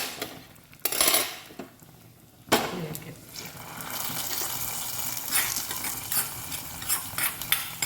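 Mustard seeds and onion frying in a pan for a lentil and papaya curry, with a steady sizzle broken by stirring and clinks of a utensil against the pan, close and alone with no talk.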